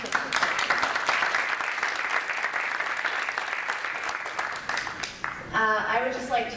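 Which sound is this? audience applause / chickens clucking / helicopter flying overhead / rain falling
audience applause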